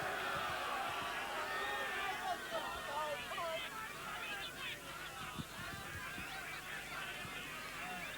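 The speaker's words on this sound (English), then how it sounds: "the crowd come to life." Crowd at a 1993 All-Ireland League rugby union match between Young Munster and Garryowen rising into a broad, continuous roar of cheering and shouting, steady and dense throughout, with a commentator's voice running over it.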